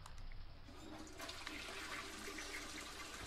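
A toilet flushes in a video game, a rushing, gurgling surge of water that swells and then continues as a steady wash of draining and refilling, clear and close with no voices.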